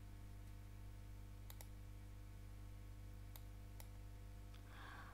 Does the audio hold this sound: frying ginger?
no